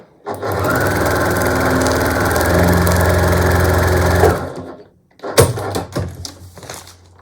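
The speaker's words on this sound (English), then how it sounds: "I'm just sewing on the line between this patch we've already created and the next patch we're adding" A sewing machine stitches quilt block patches together for a scrappy log cabin block, running in a steady close whir for about four seconds, then stopping before a cluster of sharp handling clicks.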